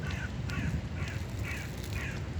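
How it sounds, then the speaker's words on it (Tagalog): Crows cawing from the treetops along a street, about five harsh calls in a steady rhythm over a constant low rumble of traffic and background noise. "naririnig ko kung huni ng ibon"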